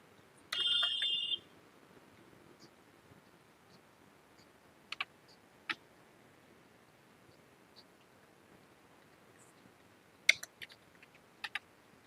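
Sparse, quiet clicks of computer keys come in a few isolated taps and short bursts while a vehicle number is typed into an online two-wheeler insurance form, with a brief electronic chime near the start and no talk.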